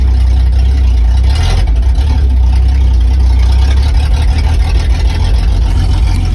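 Jeep Comanche MJ 4x4 pickup with a worn, unfinished exhaust running loud and close, a heavy low rumbling drone that stays constant for several seconds with no talking.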